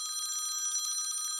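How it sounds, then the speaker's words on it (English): A telephone bell rings continuously with a rapid metallic trill, loud and close, with no voices over it. "Hold on. That's my phone again."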